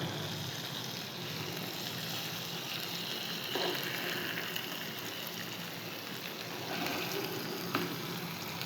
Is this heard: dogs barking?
no